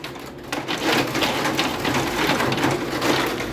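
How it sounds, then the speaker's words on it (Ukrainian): Hail and heavy rain pound against a window in Kyiv during a June storm, a loud dense continuous clatter and hiss with no talk. "Зараз вам покажу, як лупцює цей град."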